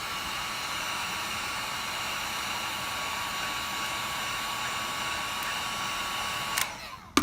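A heat blower aimed at a Galaxy S8 screen during an LCD replacement gives a steady, close, rushing hiss like a hair dryer, then shuts off with a brief clatter at the end.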